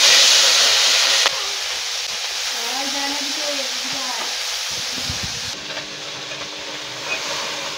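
Shabla and puti fish drop into hot oil in a wok with a loud initial hiss that settles into a steady, broadband sizzle. The frying continues close and unbroken, with no one talking.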